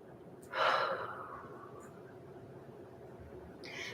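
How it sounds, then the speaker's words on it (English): One deep, audible breath is drawn and released close by while a yoga pose is held. It is followed by quiet breathing and a faint rustle, with no talking. "And then taking a couple deep breaths in this pose."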